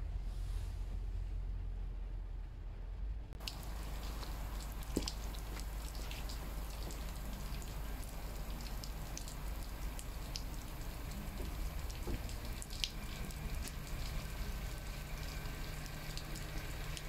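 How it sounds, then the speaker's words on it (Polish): Heavy rain pours steadily outdoors around a Mercedes Actros truck, a dense continuous patter with scattered louder drops, faint and constant throughout. "Leje, cały czas leje."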